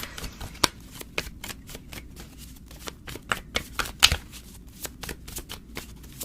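Cards being shuffled in a series of crisp riffles and snaps, close up, with irregular bursts of fluttering clicks over a quiet background.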